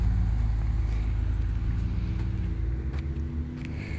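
A BMW M6 Gran Coupé pulls away, its engine a steady low rumble that holds loud and close, then eases and thins slightly toward the end as the car moves off.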